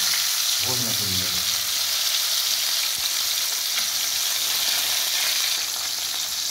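Bhola fish frying in hot mustard-recipe oil, a loud continuous hiss of sizzling close by, with a brief low clatter near the start as the pieces go in.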